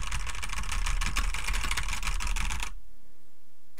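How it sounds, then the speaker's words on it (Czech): Rapid typing on an ASUS ROG Scope computer keyboard, dense close clatter of keystrokes for nearly three seconds before stopping abruptly into quiet. "Jdeme mydlit do klávesnice."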